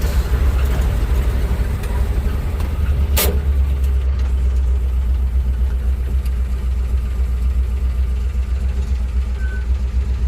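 An old truck drives along a bumpy road, its engine a loud, steady low rumble inside the cab, broken once by a brief sharp rattle.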